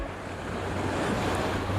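Sea waves wash steadily onto a beach in Jamaica, a continuous broad rush of surf with wind noise buffeting the microphone, loud and unbroken.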